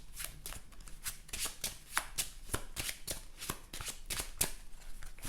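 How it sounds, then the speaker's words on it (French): Cards from a Marvel Champions game deck are shuffled close by, a quick run of crisp riffling bursts and flicks repeating steadily for several seconds with no talking. "Donc je remélange dans le deck jackpot."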